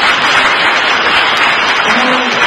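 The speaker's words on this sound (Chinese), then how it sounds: "让我们用掌声再次感谢刘老师的分享" An audience at a Buddhist temple talk applauds, a dense, continuous roar of clapping that fills the room evenly and loudly for a couple of seconds.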